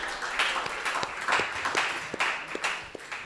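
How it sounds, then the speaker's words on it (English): Audience applause at a spiritual gathering, a steady wash of many hands clapping at moderate distance for several seconds, with scattered sharper individual claps standing out. "Please give a big round of applause to them."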